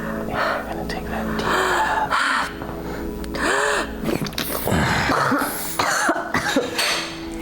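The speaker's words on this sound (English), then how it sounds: "Sorry to cough on you." Repeated close coughing, several harsh bursts with throat clearing and breathy gasps between them, loud and near, with some voice sounds mixed in.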